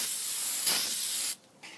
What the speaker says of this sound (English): take your brake cleaner and spray some on your new rotor